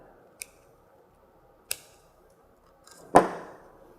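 Scissors snip decorative greenery trimmed for a simple Christmas vase: three crisp, close cuts spaced apart in a quiet room, the last one loudest and followed by a brief rustle.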